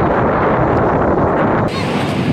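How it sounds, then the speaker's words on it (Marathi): Strong wind blows on Alibag beach, roaring steadily across the whole stretch and buffeting the microphone, loud and close, with the sea faintly underneath. "हवा सुटलंय"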